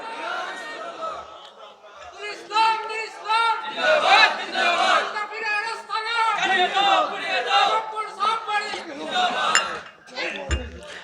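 A crowd at a Bangladeshi religious gathering chanting the Nara-e-Takbir slogan in response, many voices rising and falling together in loud rhythmic shouts with clinking in the background.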